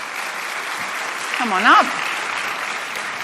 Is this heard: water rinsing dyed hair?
no